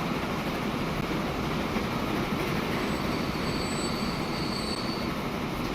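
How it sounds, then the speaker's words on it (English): Oil train wheels squealing on the rails in the transport simulation game Transport Fever 2, a continuous loud rolling rumble with a thin, high metallic squeal drifting through it and no talking. "There's the oil train."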